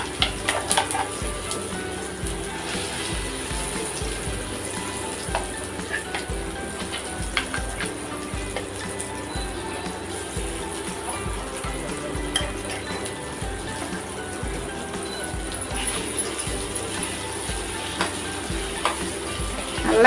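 Pirandai chutney sizzling in a pan with popped mustard seeds, a steady hiss and crackle with intermittent scraping stirs running throughout, close and even.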